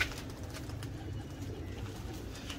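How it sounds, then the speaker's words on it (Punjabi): Pigeons at a rooftop loft in Lahore cooing softly and continuously under a steady low rumble of background noise, with faint bird calls mixed in. "ਲੋ ਜੀ ਵਧੀਆ ਕਬੂਤਰ ਆ ਗਏ"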